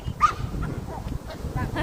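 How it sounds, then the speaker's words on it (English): Small puppies let out faint yips and whimpers, a few short, high squeaky bursts over low background rumble. "Maybe we get these little puppies in there."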